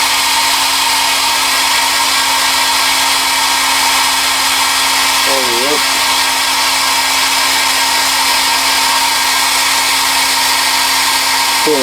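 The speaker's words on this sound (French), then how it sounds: "je vais mettre un petit coup de sèche-cheveux" A hair dryer blows loudly and continuously with a steady whirring hum, used on a Jaguar E-Type; a voice speaks briefly over it.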